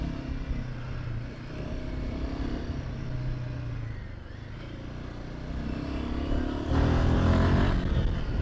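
A Royal Enfield Himalayan 450 motorcycle rides along a bumpy sandy road, its engine a steady close drone mixed with wind rush that swells louder near the end as it speeds up.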